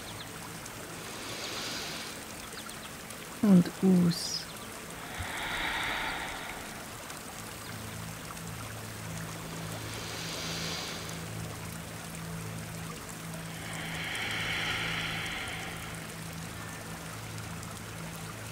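Spring water flows steadily in a soft, continuous trickle beside dry leaves, gentle and a little distant. Breaths sound now and then, and a voice speaks briefly over it.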